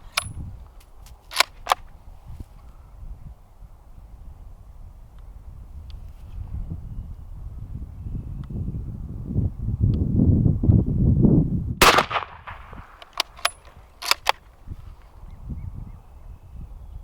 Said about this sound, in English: We had 3 more shots with the Krag.